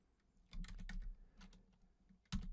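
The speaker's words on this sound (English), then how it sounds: "So for this example I'll simply type" A file name is typed on a computer keyboard in AutoCAD, a quick close run of soft key clicks followed by a pause and one louder keystroke.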